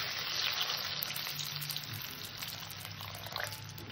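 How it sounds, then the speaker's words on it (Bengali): Water poured into a pan of fried potatoes for a curry, a continuous hissing sizzle and splashing wash that stays fairly loud and close for about four seconds. "পরিমাণ মতন জল দিয়ে দেব।"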